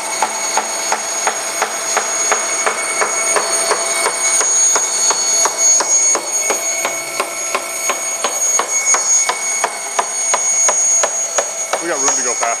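A bandsaw cuts steadily through a bathtub, giving a loud, continuous rhythmic ticking and rattling with a high whine, with a person talking over it.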